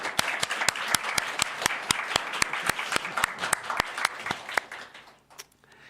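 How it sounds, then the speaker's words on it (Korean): A church congregation applauds its young people during a Sunday service, with sharp, rhythmic, prominent claps over a softer crowd, tapering off over the final second with a murmur. "우리 청년들한테 응원의 박수 한번 해요"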